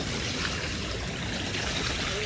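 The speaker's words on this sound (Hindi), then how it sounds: "मैं इसको पानी में चला रहा हूँ" An Okinawa electric battery scooter pushes through floodwater in a waterlogged field, giving a dense, continuous rush of churning and splashing water that is loud and close, with no engine note above it.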